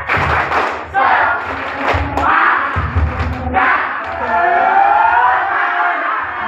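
Junior high students at a school workshop in Tangerang shout and clap together in a loud, energetic group spirit cheer, with thumping claps and voices filling the room.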